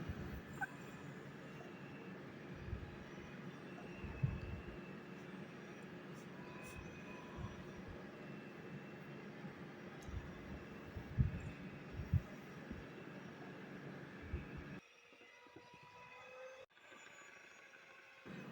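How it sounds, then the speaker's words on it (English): A hand mixer kneading soft, sticky brioche dough, giving a steady low motor drone with occasional knocks that runs for most of the stretch, then cuts off, leaving quieter room sound. "knead the dough with the hand mixer for around 5 minutes or till the flour forms into a dough"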